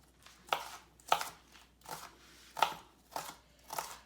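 Vegetables for soup being chopped by hand with a knife on a cutting board, about seven sharp, evenly spaced cuts with brief gaps, close and clear with no talk.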